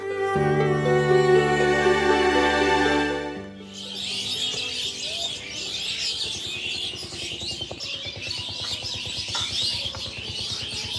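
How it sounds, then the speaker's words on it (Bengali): Busy chirping and twittering from many small birds in a tree in the Sundarbans fills the second half, following a sustained tonal hum at the start. "আমাদের রুমের পাশের গাছে কি সুন্দর পাখি কিচিরমিচির সাউন্ড"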